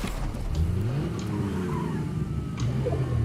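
A car driving in the video game Fortnite, large-tired vehicle with a steady engine drone that rises and falls in pitch, with faint tire noise, continuous and moderately loud without talking.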